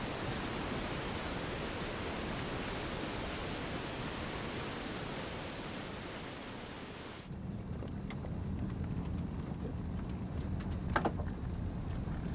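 Iguazu Falls thunders with a dense, steady roar of falling water that fills the air, continuing without a break and shifting slightly in tone partway through.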